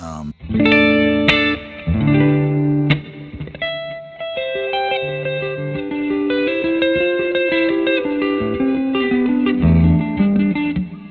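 An electric guitar rings out clean sustained chords and single notes through an amp, with a smooth shimmering effect and long decays; no one talks.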